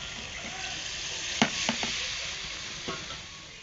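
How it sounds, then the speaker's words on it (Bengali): A malabar spinach and shrimp curry fries and sizzles in a pan with a steady, dense hiss, broken by a few short splashy bursts as water goes in and the mixture is stirred. "এবার এর মধ্যে দিয়ে দিচ্ছি জল"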